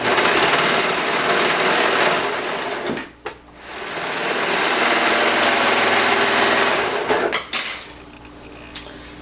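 A sewing machine runs in fast, steady stitching bursts, close and loud, stopping briefly once before starting again, then clattering to a halt.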